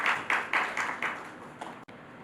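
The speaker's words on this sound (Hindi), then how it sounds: "एक बार जोरदार तालियों से पुनः आप सब उनका हार्दिक स्वागत" Applause welcoming a speaker at an awards ceremony honouring women in Lucknow, a steady burst of clapping from a crowd that fades out, with no talk over it.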